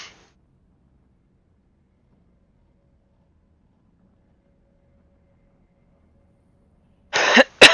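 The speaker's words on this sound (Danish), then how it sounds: "Ok, jeg må få ut all hosting og harking og klør i halsen." A person coughs and clears their throat in a short burst at the very end, close and loud, after a long stretch of near silence.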